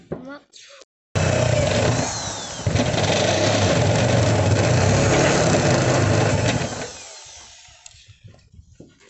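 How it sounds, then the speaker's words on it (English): A jigsaw cuts a straight line through the sheet-metal roof of a 2019 Peugeot Boxer van for a skylight, a loud continuous rasping buzz for several seconds that then stops, with talk nearby. "the straight jigsaw cutouts."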